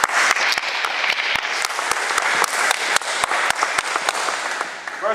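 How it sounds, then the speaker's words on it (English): A conference audience applauds guest speaker Scott Gordon at a Hip Hop Congress event in Seattle, sustained clapping filling the room with a few sharper claps standing out nearby. "please give a warm round of applause for Mr."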